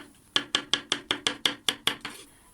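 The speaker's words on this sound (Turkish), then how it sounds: "mantarları küçük küçük doğramaya başladım" A knife chops mushrooms into small pieces on a board for mushroom soup, giving about nine crisp, evenly spaced strikes that each ring briefly before the next, close up and with no talking.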